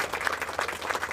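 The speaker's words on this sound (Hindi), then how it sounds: "एक बार तालियां बजा दीजिए कृपया।" Audience at a Hindi kavi sammelan poetry gathering breaks into a short burst of dense, steady clapping, close and fairly loud, with no talk over it.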